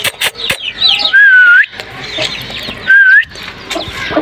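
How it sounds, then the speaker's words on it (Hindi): A hen calls loudly up close, giving two drawn-out, whistle-like squawks between choppy clucks and scratchy noises, with bursts of clatter at the start. "ये मुर्गी है"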